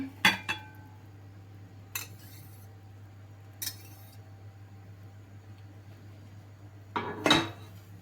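A utensil mixing cake batter with melted butter in a bowl gives a few sharp clinks and scrapes against the dish, spaced apart over a quiet low hum, close and light, with a final cluster of clatter near the end.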